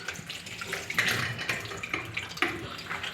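Tap water runs steadily into a sink as fresh shrimp are rinsed by hand, a continuous splashing stream broken by a few sharper splashes and clinks, close by, with no voices.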